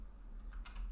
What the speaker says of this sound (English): we'll type it